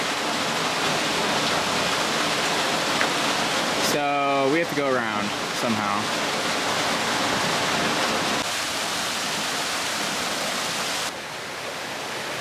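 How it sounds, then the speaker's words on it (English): Water from a chalk-stone pour-off tumbles into icy water in rugged Utah terrain, a steady loud rushing roar that runs throughout, with people talking over it partway through. "there's a chalk stone making a big pour off right there into icy water"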